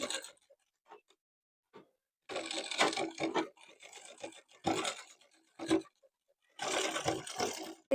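A sewing machine stitches trouser fabric in several bursts of steady whirring, some short and some longer, separated by quiet pauses.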